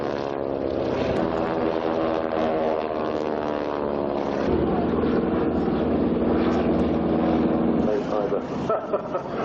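Propeller aircraft of a wing-walking display team at the Farnborough Airshow, flying inverted with a walker on the wing, giving a steady droning engine note that shifts pitch as it manoeuvres, with a commentator talking over it.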